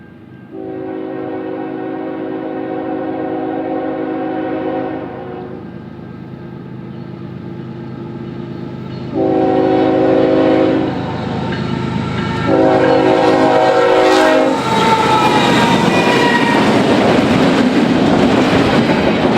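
An eastbound double-stack freight train passes at Pine, Indiana, sounding long, loud horn blasts in several bursts over a rising rumble and clatter of wheels as it draws close.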